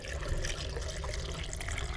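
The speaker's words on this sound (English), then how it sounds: "I went and got some hose water, or excuse me, some pool water, and I'm just putting it in there until I have covered all of the fins with water" Pool water poured from a bucket over the fins of a Pentair IC40 salt cell, a steady close splashing and trickling wash that runs the full length without pause.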